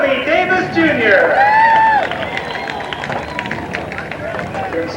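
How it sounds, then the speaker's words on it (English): Crowd applause and cheering at Knoxville Raceway for a sprint car race winner, a dense wash of clapping that rises loud, then settles into lighter scattered clapping, with someone talking over the start. "How about a nice round of applause?"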